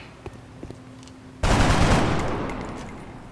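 Gunfire from a soldier's shot in the strategy video game XCOM: a sudden loud burst of shooting that erupts after a quiet moment and holds as a dense, gradually fading roar for about two seconds.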